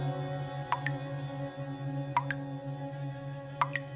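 Three separate water drips plop at slow, irregular intervals over a quiet, humming background.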